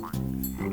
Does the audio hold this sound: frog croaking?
yes